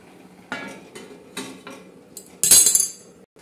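Metal lid clatters back onto a cooking pot of spiced cauliflower-cabbage curry in a village kitchen: a few soft knocks and scrapes, then one bright ringing clank near the end, close and fairly loud.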